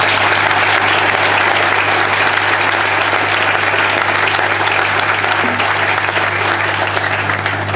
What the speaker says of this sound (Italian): Fermo un applauso.